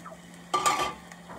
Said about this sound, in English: Let them onions start cooking.